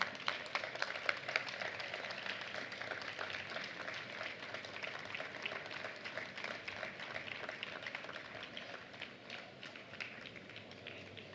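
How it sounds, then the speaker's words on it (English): Audience members at a marathon press conference clap in a soft, even patter that carries on for several seconds, sounding somewhat distant in the room. "Big applause for them."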